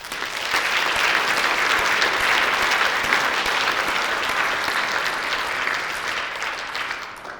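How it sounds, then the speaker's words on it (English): Sustained audience applause for an agricultural award recipient at an Illinois soybean farmers' impact awards ceremony, a dense steady wash of clapping that holds throughout and tapers slightly near the end. "Please give Ron a round of applause."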